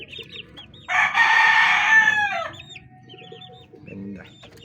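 A rooster crows loudly once, a long, strained cock-a-doodle-doo lasting over a second, with faint clucking and farmyard murmur around it.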